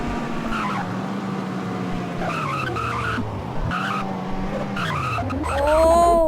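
A Mazda RX8 speeding on a back road whines with a wavering engine tone, then breaks into a loud, rising tire squeal as it skids near the end.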